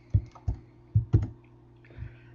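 A keyboard shortcut being pressed in photo-editing software, several distinct key clicks and thumps up close, spaced irregularly with short gaps, with no talking.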